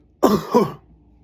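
A single voiced cough-like burst in two quick pulses, a person mimicking a cough, close and short.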